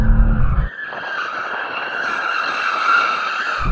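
A BMW M2 spins its tyres before a drag race, producing a loud, sustained high-pitched tyre squeal up close that holds steadily after a brief engine burst at the start.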